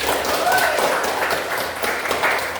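A group claps together, a steady patter of applause from a modest crowd in a room, with faint voices mixed in.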